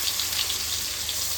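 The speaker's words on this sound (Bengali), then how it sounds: "একটু ভাজতে একটু সময় লাগে, অল্প জালে" Taro frying in a pan over low heat gives off a brief, even hiss of sizzling with no other sounds.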